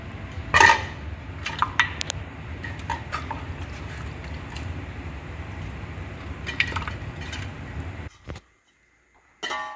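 Chicken and gravy spooned into a ghee-greased pot for biryani: metal spoon scrapes and clinks against the pot with soft wet squishes, a few sharper clanks, quiet and close, ending in a brief silence.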